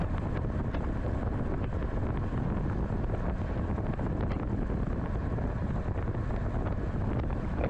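Wind roars constantly across the microphone of a rider in a road bike circuit race, a loud, unbroken rushing buffet with no other sounds audible over it.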